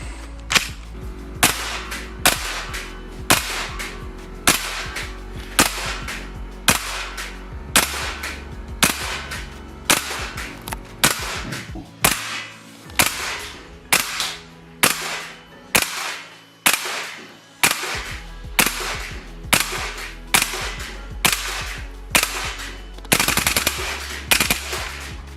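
A VFC FN SCAR-H airsoft gas blowback rifle fires dozens of sharp, snappy shots in a quick, uneven cadence with short pauses, close and loud.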